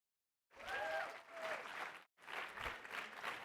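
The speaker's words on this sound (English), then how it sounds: "Give him a round of applause." An audience applauds a volunteer called up on stage at a live seminar. The clapping is dense and steady, with a brief cheer or whoop early on, and it breaks off for a moment before a second burst follows.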